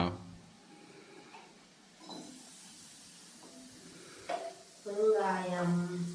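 Spices for tempering an eggplant curry sizzle in hot oil with a steady hiss that starts partway through, while people talk over it.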